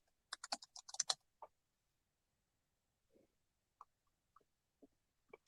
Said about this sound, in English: hitting Command V to paste it in